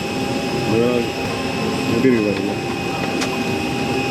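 Inside the cabin of an Airbus A320, a steady whooshing engine drone fills the air while someone talks over it.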